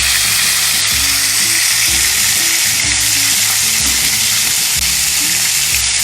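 Chicken pieces fry in hot oil, a loud, dense crackling sizzle that runs steadily throughout, with faint low clatter and stirring noises beneath.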